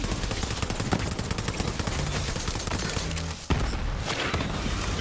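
Dense, continuous automatic gunfire in the video game Borderlands 3, loud rapid shots and bursts packed tightly together, with one brief dip in the barrage before it resumes just as heavily.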